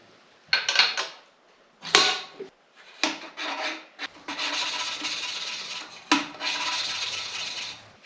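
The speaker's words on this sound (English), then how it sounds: "I got that valve lapped in there and got all the lapping compound cleaned up" An engine valve from a neglected Onan generator is lapped into its seat with lapping compound, making gritty, scraping rubs in uneven strokes and bursts, close and moderately loud.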